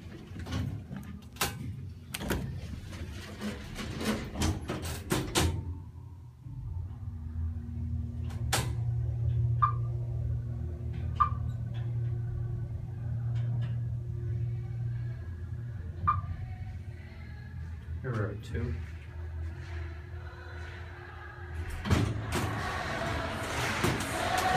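A Dover Impulse hydraulic elevator at Pease Auditorium runs with a low steady motor hum, framed by clanks and clicks of doors and mechanisms at the start and end, plus a few faint chimes.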